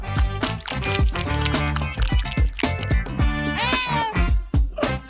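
Several cats meow over an upbeat music track that plays loudly throughout, the meows rising and falling in pitch near the end while the music keeps a steady rhythmic beat.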